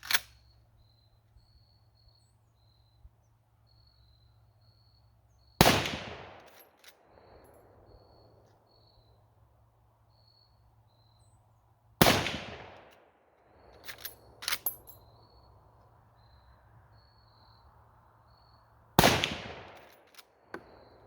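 Henry lever-action rifle firing Browning BXR 155-grain rapid expanding matrix tip rounds: four loud, sharp shots spaced several seconds apart, each with a decaying outdoor echo, plus a couple of faint clicks of the lever between shots.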